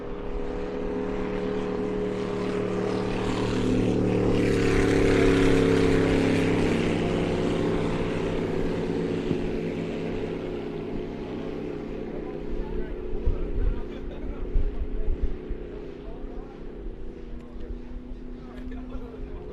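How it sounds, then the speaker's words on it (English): Supercharged V8 racing boat engine with twin blowers on the back, a loud, steady droning roar that swells as it winds up mid-run, then eases back with rougher, choppier bursts toward the end. "Sit back and listen to some of the beautiful tones coming out of that boat as he starts to wind it up"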